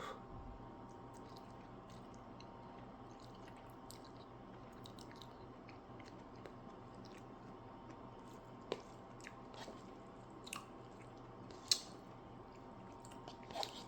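Chewing a bite of fiery kimchi stir-fried ramen, with quiet wet mastication and a few faint crunchy bites over low steady room noise, no talking.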